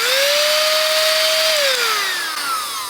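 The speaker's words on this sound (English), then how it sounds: "So this is the little handheld vacuum cleaner." A small USB-chargeable handheld vacuum cleaner, made for cleaning computers, runs with a loud steady high motor whine that then winds down in pitch toward the end, with no talking.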